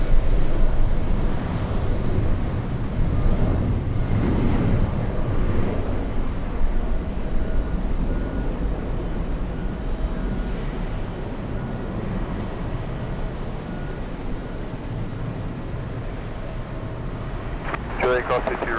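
A Delta passenger jet bound for Las Vegas rumbles and roars steadily at JFK Airport on a hot day, a loud sustained engine drone holding throughout with a voice talking over it and a few faint ticks near the end.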